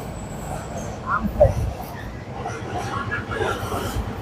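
A long train rumbles past a road rail crossing in Kaliganj, Gazipur, with a steady, close rattle and roar that lasts throughout and faint voices mixed in.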